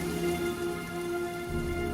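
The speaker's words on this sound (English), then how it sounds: "And it's still raining." Steady rain from the video game Heavy Rain falls as a continuous hiss, moderately loud and unbroken, with a faint low rumble shifting underneath and no voices.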